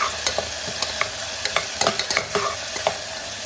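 Meal maker soya chunks and potato pieces stir-fried in a pan: a steady sizzle punctuated by repeated scraping, clacking spatula strokes in an irregular rhythm, close and fairly loud, no voices.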